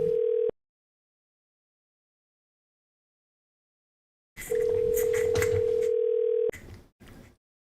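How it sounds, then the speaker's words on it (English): A long steady beep sounds on a phone call just before a voicemail recording starts, preceded by a brief earlier beep and followed by clicks and muffled line noise. "At the tone, please record your message."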